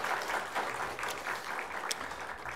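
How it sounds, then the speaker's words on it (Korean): A church congregation gives a round of applause during a Sunday service, with steady, moderately loud clapping across the room that holds throughout, plus a brief sharp click near the end. "큰 박수 한번 해주십시오."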